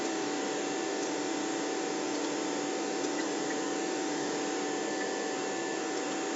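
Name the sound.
vacuum cleaner running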